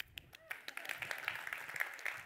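A TEDx audience in Memphis claps in a dense patter of applause that builds and holds, with a speaker's voice heard faintly at the start.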